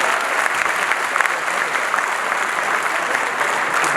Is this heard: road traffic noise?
no